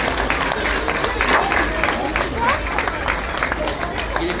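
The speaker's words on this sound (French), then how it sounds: "Bravo, on l'applaudit très fort." Audience clapping for a seven-and-a-half-year-old girl winning a school drawing prize at a Christmas event in Antibes, with steady applause and crowd murmur mixing with a nearby voice.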